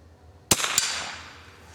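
A single sharp rifle shot from a Remington Model 582 fired at a rabbit outdoors, with a quick echoing crack just after the report and a long fading tail.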